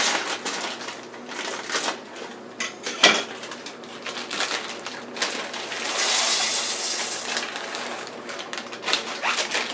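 Dry mini shell pasta from a 7-ounce bag is poured into a pot for beef and bean soup, giving a close, busy rattling patter of hard little shells hitting metal, surging and easing over several seconds.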